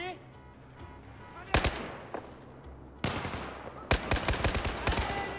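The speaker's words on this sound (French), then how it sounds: "Là, tire en pleine tête" Gunfire from shooting in the PC video game Battlefield 4: sharp single shots, then loud bursts of rapid automatic fire in clusters over low game ambience.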